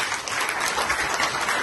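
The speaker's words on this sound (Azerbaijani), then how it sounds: "Qusar şəhid ailələrini dəvət eləmək istəyirəm böyük alqışlarla." Audience applause welcoming families of fallen soldiers at a book presentation event in Qusar, a dense, steady clapping from a crowd that fills the whole moment without pause.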